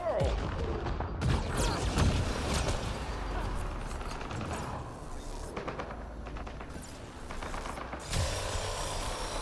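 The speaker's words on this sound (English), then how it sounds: "Just heard non-stop cryo explosions." Cryo explosions go off in a Mass Effect Andromeda multiplayer match, a rapid series of booming blasts and crackling bursts layered over ongoing game noise, several hitting in quick succession at moderate level.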